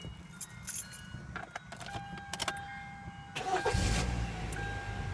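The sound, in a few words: Hyundai Tucson engine starting after battery install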